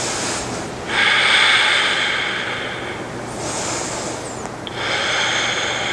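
Slow, deep breaths during a yoga hold, with two or three long airy inhales and exhales swelling and fading close by, nothing else around them.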